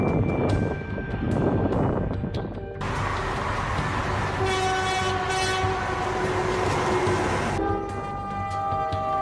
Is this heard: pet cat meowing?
no